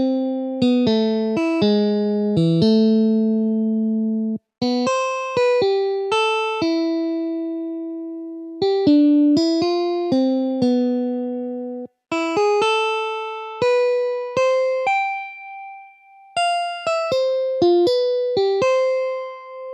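Solo guitar plays a finished song melody of clear plucked single notes, some quick runs and some held tones, close and clean throughout with no talking.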